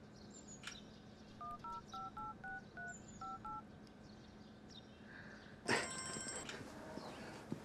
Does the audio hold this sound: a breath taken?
no